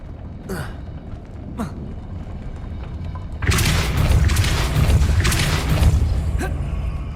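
A Depulso force spell is cast in the video game Hogwarts Legacy, a heavy whooshing boom that swells suddenly and rumbles on loudly after a few softer magical swishes.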